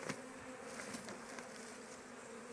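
Honey bees at an opened hive, kept by an elderly beekeeper in spring, hum in a faint, steady buzz with no break, a few individual insects drifting nearer now and then; no one speaks.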